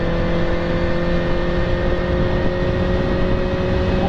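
Inline-four 600cc superbike engine running steadily at a sustained rev on a highway ride, a loud, continuous whirring drone with steady tonal hum and no pauses, heard alone without talk.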